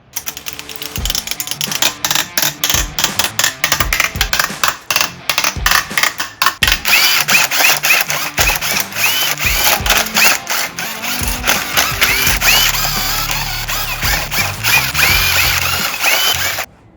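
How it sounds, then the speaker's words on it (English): An impact wrench loosens the girdle bolts on a Porsche 944 Turbo engine during a teardown, giving rapid rattling hammer bursts in close succession, loud and close, with a brief whir between bursts and no talking. "use the impact to get these bolts out a little bit quicker"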